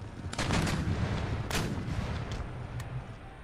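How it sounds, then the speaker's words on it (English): Infantry in Empire: Total War fire a musket volley, a dense ragged crackle of many shots at once that booms loudly at first and then rolls off with scattered later reports, with no talking. "Fire a volley!"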